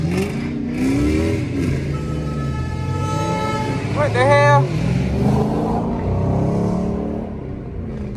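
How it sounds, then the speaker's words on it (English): A car engine revs and pulls while driving, a loud rising and falling engine note from inside the car with a sharp surge midway, while people talk over it. "Car sounds sluggish as fuck, but it's not."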